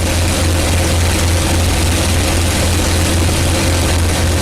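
P-51 Mustang propeller engine run up to 2,700 RPM in flight, a loud, dense, constant drone with a strong low hum and broadband roar filling every moment, heard close in the cockpit with no talk.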